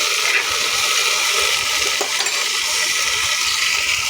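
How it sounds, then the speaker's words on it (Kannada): Mint leaves fry in oil in a pan for ghee rice, a constant, close, bright sizzling hiss with faint stirring scrapes throughout. "ಪುದೀನ ಹಾಕಿದ್ದೀನಿ. ಚೆನ್ನಾಗಿ ಎಣ್ಣೆಲಿ ಸ್ವಲ್ಪ ಫ್ರೈ ಮಾಡಬೇಕು"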